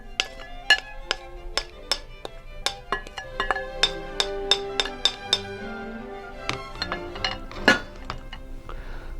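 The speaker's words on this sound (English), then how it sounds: "let's just add the corn." Yellow and white organic California corn tumbling into a salad bowl, a scatter of bright clinking ticks against the dish, clustered in bursts with quiet gaps between.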